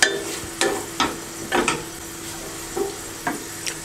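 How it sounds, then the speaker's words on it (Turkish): Onions and peppers sautéing together in a pan, with a steady low sizzle broken by several short, distinct scraping stirs of a spoon spaced about half a second to a second apart, close and fairly clear, no talking. "Soğan ve biberleri kavuruyorum beraber."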